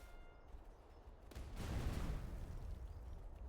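Cannon fire from the video game Master of Command, with several dull distant booms rolling together into a sustained rumble of battlefield artillery.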